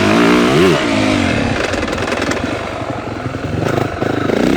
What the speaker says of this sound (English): I'm going to show these guys what wheel chatter should sound like here.